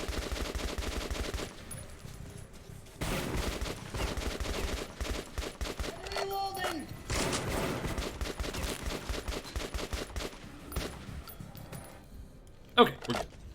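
Metro video game gunfire: repeated automatic bursts and scattered single shots, moderately loud under an ongoing voice, with a sharper bang near the end.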